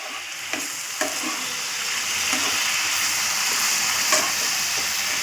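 Grated carrot and milk for carrot halwa being stirred in a pan: a continuous, fairly loud frying hiss with a few sharp spoon scrapes near the start, no voices.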